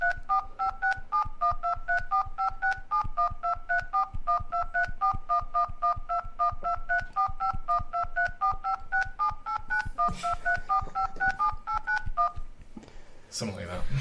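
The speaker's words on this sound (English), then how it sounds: "with his phone about to dial in numbers" Phone keypad tones as numbers are dialed, a long run of quick, evenly spaced two-note beeps, clear and close, ending in a brief burst of other noise.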